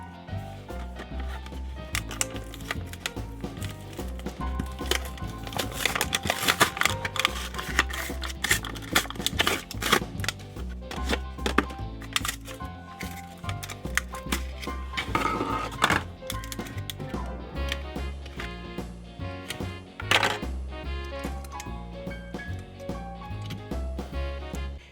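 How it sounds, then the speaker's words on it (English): A Mattel 1:55 scale diecast Lightning McQueen toy car in Racing Red being removed from its plastic and cardboard packaging, with continuous close crinkling, tapping and snapping clicks throughout. "let's take Racing Red Lightning McQueen all out of the packaging"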